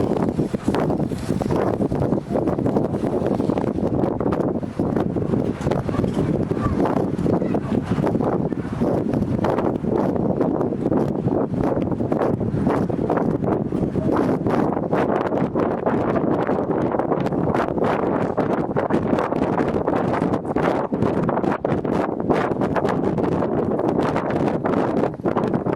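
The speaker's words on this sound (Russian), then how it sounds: "Даже меня сдувает ветром" Strong wind blows steadily by Kanal lake in Sculeanca, Chișinău, as a loud, unbroken roar that buffets the microphone for the whole stretch, with no talk.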